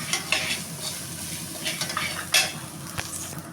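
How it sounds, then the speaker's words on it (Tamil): Grated coconut sizzles in hot oil in a pan while a utensil stirs it, making soft frying crackle with intermittent scraping and clinks against the pan. "அதுவும் கொஞ்சம் எண்ணெயில் வதங்கட்டும்."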